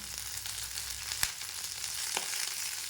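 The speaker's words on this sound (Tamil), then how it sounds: "இதை நல்லா வதக்கிக்கோங்க." Red and green chillies sautéing with curry leaves in hot oil for mint chutney, a dense steady sizzle close up, broken by two quick spoon clicks against the pan, no talking.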